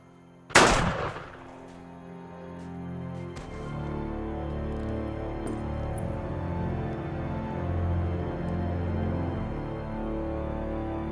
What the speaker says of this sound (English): People are shooting. Hear that, Lee?